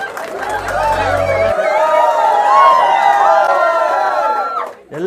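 A lively audience at a Kannada stand-up comedy show cheers and whoops to welcome comedian Abhilash Nayak on stage, a steady wall of crowd noise and shouting voices that stays loud and close throughout before dipping at the very end.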